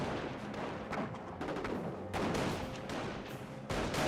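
Rapid MG42 machine gun bursts and distant artillery booms from a Company of Heroes battle, dense overlapping volleys with short pauses, loud and continuous throughout.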